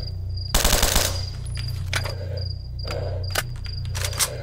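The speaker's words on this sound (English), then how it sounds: "This one's like a rapid-fire sniper" A rapid-fire sniper rifle in STALKER: Shadow of Chernobyl lets off a loud burst of quick shots, then several single cracks spaced through the rest of the clip over a steady insect-like game ambience.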